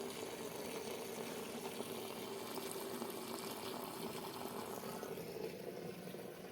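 Mustard greens are being washed under open running water on a rooftop, a steady continuous splash and gurgle of flowing water with no talk.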